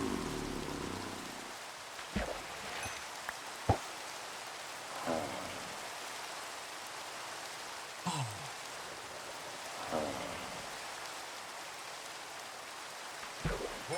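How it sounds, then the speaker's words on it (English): Steady rain hiss in Minecraft, the video game, running as a soft, even wash through the whole stretch, broken by a few brief clicks and faint thuds. "It's not going to rain forever, Mozzie."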